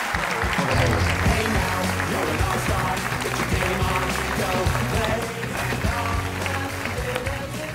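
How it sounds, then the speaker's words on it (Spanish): A studio audience applauds Caimo with loud, dense clapping that carries on for the whole stretch and tapers slightly toward the end. "un aplauso para Caimo"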